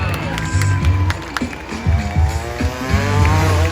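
Freestyle motocross bikes at a rodeo revving in repeated bursts with rising and falling engine pitch, heard over a loud arena crowd and a public-address voice.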